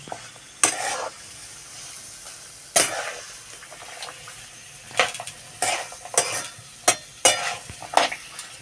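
Green peas curry with chilli and spices gets stirred in a pan, a spoon clanking and scraping against the metal in sharp, uneven strokes over a low sizzle.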